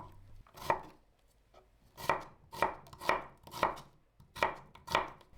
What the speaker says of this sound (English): Cut 1 onion in chunks.